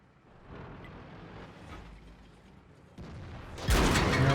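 Heavy tank cannon fire in World of Tanks, a deep boom with loud crackling blast near the end, after a rumbling mechanical stretch.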